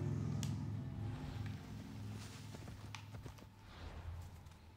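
Horse hooves clip-clop at a steady walking pace in Assassin's Creed Odyssey, moderately loud and close over the game's background ambience.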